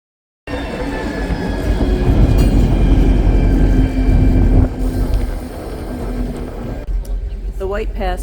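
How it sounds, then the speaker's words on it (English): The White Pass train rumbles steadily on the railway in Alaska, a loud continuous rolling drone with clanking, before the noise drops and a person's voice is heard briefly at the close. "The White Pass train stopped right here in our path, so we have to wait till it moves to get to the other side."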